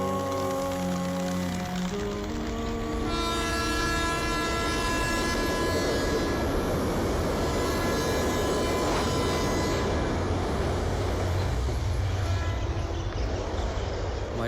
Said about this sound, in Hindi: हमारी ट्रेन आ गई।